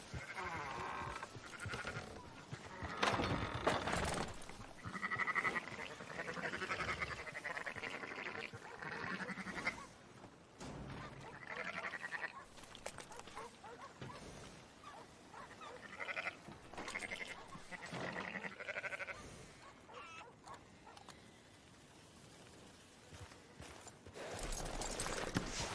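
Sheep bleat repeatedly amid a busy mix of animal calls and shuffling, some cries overlapping, with no talking, in the video game Red Dead Redemption 2.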